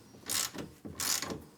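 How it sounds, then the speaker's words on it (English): Spring compressors clicking and ratcheting onto the coil spring of a Mercedes 190E during an air ride install, two close, distinct bursts of metallic mechanism noise with a short pause between. "So I'm going to get the spring compressors on there"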